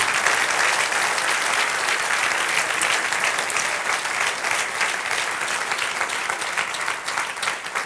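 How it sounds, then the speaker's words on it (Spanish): A church congregation claps together in steady, dense applause after a sermon, loud and sustained throughout with no pause, filling the room evenly from start to finish. "Dale un aplauso"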